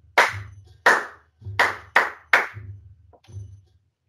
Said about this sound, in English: you can activate the microphone and play along by clapping